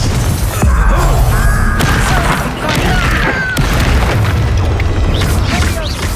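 Fire spells and combat in the video game Hogwarts Legacy erupt in heavy booms and crashes, loud and dense, with bursts of whooshing magic and voices talking through the fight.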